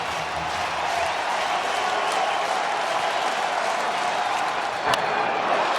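At a Cubs–Dodgers baseball game, a stadium crowd cheers on its feet with an 0-2 count, forming a broad, steady roar of distant voices and applause that holds evenly throughout.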